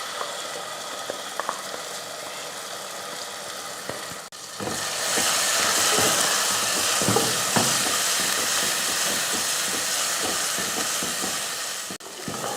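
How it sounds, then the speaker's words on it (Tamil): Ground masala frying and stirring in hot oil for a South Indian banana leaf lunch, a loud continuous sizzle and hiss with scraping stir strokes, rising sharply after the paste goes in, close up with no talking. "எண்ணெயில் இது போல் மசாலா ஒரு 2 நிமிஷத்துக்கு நல்லா வதக்கி விட்டுட்டு"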